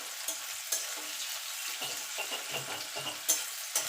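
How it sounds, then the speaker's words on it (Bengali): Onion frying in a pan for a water spinach (kolmi shak) stir-fry gives a steady close sizzle, broken by a few sharp stirring scrapes and clinks, with no voices. "এবার পেঁয়াজটাকে একটুখানি ভাজা ভাজা করে নেব, খুব ভাজবো না।"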